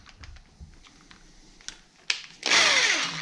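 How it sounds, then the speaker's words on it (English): A power drill spins wire to make twist ties for lure making, starting with faint clicks and handling noise, then short bursts before a loud sustained whir near the end. "I put the wire into the drill."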